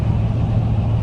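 A 1990 Ford truck cruises down the highway, a steady, loud engine drone and road rumble heard from inside the cab.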